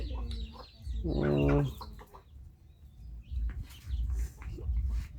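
Chickens clucking nearby, with one loud drawn-out squawking call and scattered softer clucks around it, over low rumbling background noise; no clear speech.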